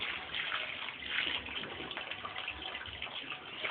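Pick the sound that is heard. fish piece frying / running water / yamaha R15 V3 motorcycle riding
running water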